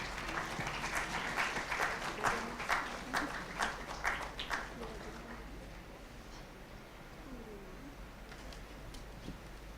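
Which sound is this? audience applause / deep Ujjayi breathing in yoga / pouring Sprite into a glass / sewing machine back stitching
audience applause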